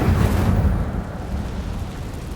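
An Incendio fire spell cast in Hogwarts Legacy bursts out as a loud, rumbling whoosh of flame, strongest at the start, then fading into a steady low roar.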